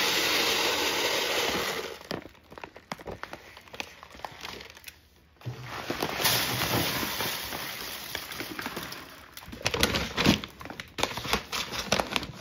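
A 2 gallon Mylar bag holding rice is handled close up, giving bursts of crisp crinkling and rustling that come and go across the clip.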